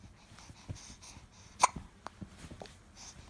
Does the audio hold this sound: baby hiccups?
yes